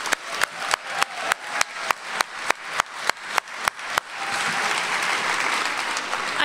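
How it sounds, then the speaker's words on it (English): Audience at the Rockford Area Arts Awards 2024 ceremony gives the nominees a final round of applause: about a dozen sharp, evenly spaced claps ring out, then merge into a steady, dense wash of clapping from the crowd. "Let's give them one last round of applause."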